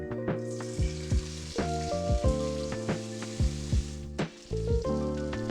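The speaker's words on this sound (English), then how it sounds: "add your tomatoes to the pan along with a pinch of salt and increase the flame to medium heat" Garlic and tomatoes sizzle and crackle in a hot pan over medium heat with occasional stirring, heard under loud, steady background music.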